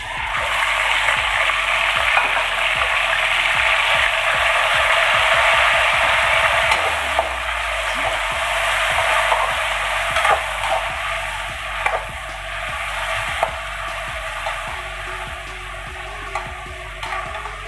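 Marinated chicken sizzles steadily in hot oil with garlic over high heat, a constant crackling hiss with repeated clinks and scrapes of stirring throughout, close up and without voices.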